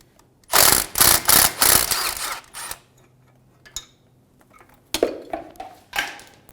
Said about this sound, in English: Using a 12mm socket, we're going to remove the bolt for the brake line bracket.